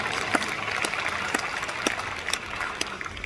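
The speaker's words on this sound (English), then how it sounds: "Let's give that Ben a warm round of applause" A small audience gives a round of applause for Ben Owen, a project manager: thin, sparse claps land at uneven intervals over quiet room noise.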